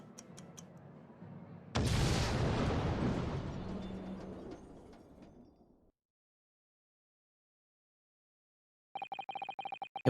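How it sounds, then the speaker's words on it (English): Explosion sound effect from the video game The Great Ace Attorney Chronicles, a loud sudden blast that rumbles and slowly fades over several seconds, followed by silence and then a burst of clicking game tones. "An enormous explosion that ripped through the experimental stage at the Great Exhibition"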